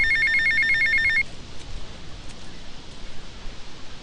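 A payphone rings in GTA Vice City, a short electronic trill repeating for about a second before it cuts off, leaving a low background hiss.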